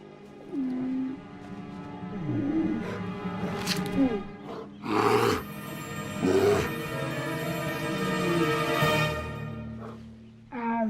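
A bear in Canada growls and grumbles through a series of drawn-out, throaty bursts separated by short pauses. The sound is close and moderately loud.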